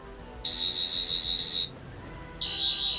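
Two bursts of a shrill electronic whirring tone from a toy Doctor Who sonic screwdriver, the first lasting over a second, a pause, then a second burst starting up; close and loud.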